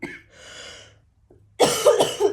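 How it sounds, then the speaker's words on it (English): A person coughs in two bursts: a short first cough followed by a longer rasping exhale, a brief pause, then a loud harsh coughing fit close to the microphone. "I am so sorry about the coughing."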